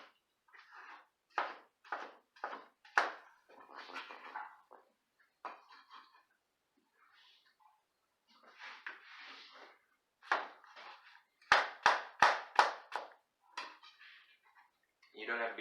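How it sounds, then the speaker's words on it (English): A knife cuts a pineapple into slabs on a board, giving a series of crisp chopping knocks and scraping strokes in bursts, with a quick run of sharp taps near the end. "I'm going to cut a few slabs for my salsa, and the rest of this I'm just going to break down for my smoothie later."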